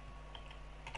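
Quotation marks typed on a computer keyboard, a quick run of soft key clicks close by and fairly quiet, with a slightly louder tap at the very end.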